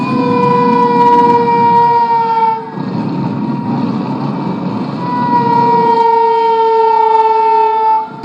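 Civil defense air raid siren sounding during a blackout mock drill in Lucknow, a loud, sustained wailing tone that dips briefly near the middle and rises again, heard alone with no talk.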